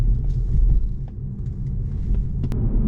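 A BMW 320d xDrive (G20) heard from inside as it rides over a speed bump: a loud low rumble of road and engine, with light knocks from the suspension as the wheels go over.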